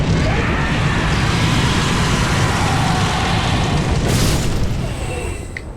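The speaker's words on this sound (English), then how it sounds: "He'll set himself on fire, start running at you and try to explode on you." A self-destructing, burning enemy explodes in Dark Souls 3, a dense, sustained rumbling roar of fire and blast that holds steady, with a sharp burst near the end before fading slightly.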